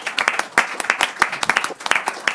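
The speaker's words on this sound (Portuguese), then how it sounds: "Uma salva de palmas, por favor." A small group claps at a committee meeting, hands striking in quick, uneven bursts of sharp, close claps that gradually thin out.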